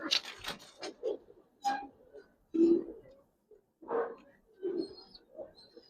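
Giribaz and coloured pigeons cooing inside a loft, a series of close, throaty coos and short bursts at irregular intervals, with a brief higher chirp near the end.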